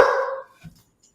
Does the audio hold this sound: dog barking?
yes